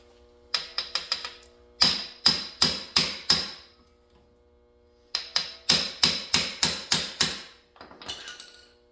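A hammer strikes a bit while a kickstart is installed on a DRZ 400SM motorcycle. Two close, loud runs of sharp metallic blows land in steady rhythm, about nine in the first run and eight in the second, with no talking.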